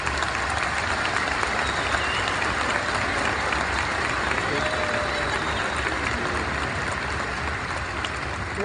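A large audience at a medical sciences graduation ceremony applauds loudly and steadily, a dense, continuous wash of clapping that holds without a break.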